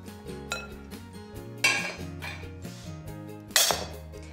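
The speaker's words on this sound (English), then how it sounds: "Now I'll transfer it into a bowl so we can start building the salad." Fluffed cooked quinoa is scooped from a pot into a bowl, with clinks and scrapes of a utensil against cookware and two sharper metallic knocks, close and clear with no talking.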